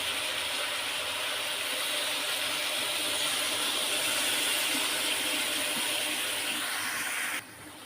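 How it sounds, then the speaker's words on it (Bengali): Broth poured into a pan of fried flat beans and potatoes gives a steady, loud watery hiss and splash that runs evenly and then cuts off sharply near the end. "এখন আমি পরিমাণ মতো ঝোল দিয়ে দিব"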